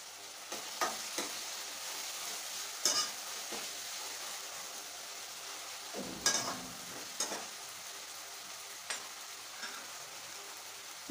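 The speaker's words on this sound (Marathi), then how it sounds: "हे सर्व मसाले आता छान तेलात परतून घ्यायचे" Spices frying in hot oil for a Marathi-style mutton curry, a steady soft sizzle with occasional stirring scrapes and clicks, close and continuous with no talking.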